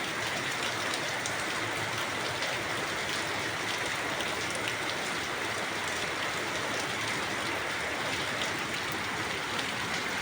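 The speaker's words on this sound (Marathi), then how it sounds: "आहे की नाही सुंदर पाऊस." A monsoon shower falls outside a bedroom window as an even, dense hiss of rain that holds steady and unbroken throughout, with no voices.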